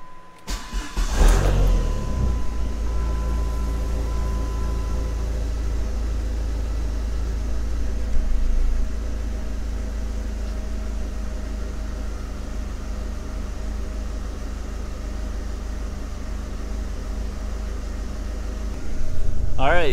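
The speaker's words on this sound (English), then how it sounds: "car seems to be idling fine" A Dodge SRT-4 engine cranks and catches, then settles into a steady, loud, low idle hum that continues throughout with faint background noise.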